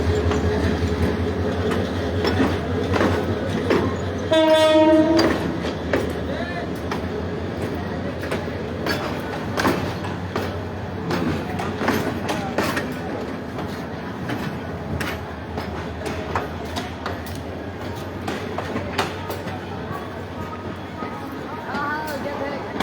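Dolonchapa Express pulling into a station platform, with a low rumble, rhythmic clatter of wheels over rail joints and a brief high squeal, under a voice speaking throughout.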